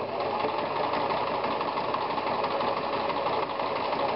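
A sewing machine stitches the first side of a long buttonhole, running in a steady, continuous mechanical whir at close range with no pause throughout.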